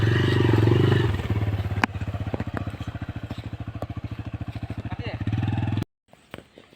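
A new motorcycle engine chugs in a steady rapid putter as the bike is ridden near rice paddy fields, first idling loudly, then running with rhythmic pulses before cutting off abruptly near the end.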